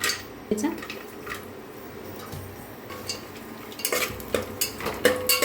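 Cashews and almonds roasting in hot ghee in a pan, with soft sizzling under clinks and scrapes of a spoon against the metal, growing busier and louder toward the end.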